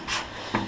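A sanding block is pulled across the rear fender of a 1954 GMC truck during restoration, two short close raspy rubbing strokes, loud and with no talk.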